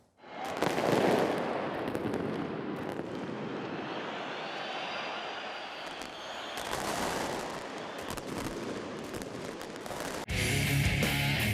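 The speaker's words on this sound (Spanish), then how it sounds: "la peligrosa explosión de un fuego artificial en el clásico universitario" A firework blasts in a crowded football stadium at a university derby: a sudden loud burst, then a roaring, noisy wash of crowd and echo that swells again near the end.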